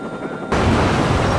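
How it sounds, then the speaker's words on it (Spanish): A grenade explodes in the video game Watch Dogs, a sudden loud blast that cuts in after a quiet moment and holds as a dense roaring rumble to the end. "Qué buena explosión."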